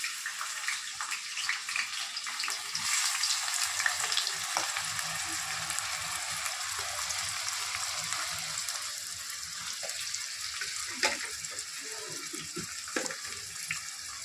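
Curry leaves dropped into hot oil for a mutton curry, giving a loud, continuous broadband sizzle and crackle that stays close and steady throughout, with faint clinks of stirring and no voices.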